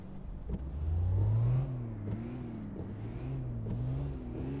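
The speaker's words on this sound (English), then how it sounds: "The engine is on" A car engine in City Car Driving runs and revs up with a rising whine, then drops back to a steady, wavering mid-pitched hum, alone with no talk.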